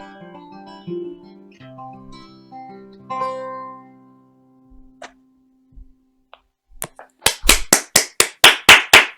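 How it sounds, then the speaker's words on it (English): A short burst of hand clapping from a small concert audience enters after quiet tonal music fades, several sharp claps in quick succession, fairly close. "I got a round of applause there. I heard a singular lot of clapping."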